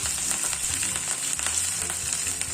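Green chillies sizzle and fry in hot oil alongside mustard seeds, cumin, dried red chillies, pepper and ginger for foxtail millet khichdi, a steady close crackle with occasional stirring and no talk.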